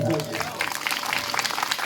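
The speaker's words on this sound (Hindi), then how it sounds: "अगर कहानी अच्छी लगी हो तो जोरदार ताली सभी लोग बजाएं, जोरदार।" Audience clapping at a Hindi storytelling event about Guru Ravidas, dense and steady for about two seconds, with a voice audible at the start.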